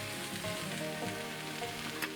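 Canned crushed tomatoes sizzling in a hot frying pan, a dense, steady close sizzle with faint bubbling and one brief clink near the end.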